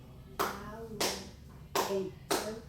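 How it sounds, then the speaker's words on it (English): Four hand claps in an uneven rhythm, one for each syllable of a spoken word, close and fairly quiet. "How many claps in alligator?"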